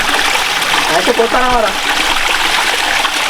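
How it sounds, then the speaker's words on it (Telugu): Water from a forest stream runs in a steady rush close by, and a brief tonal voice sound rises over the flow midway. "మనకు నీళ్ళు ఇక్కడ నుండి వస్తున్నాయిగా"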